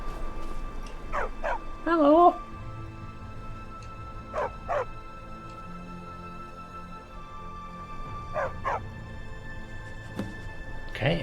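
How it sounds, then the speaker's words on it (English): A dog in the video game Skyrim, heavily bruised, yips, barks and whimpers in short close bursts across the clip, with one drawn-out whining cry, while a person talks over it in places. "A dog!"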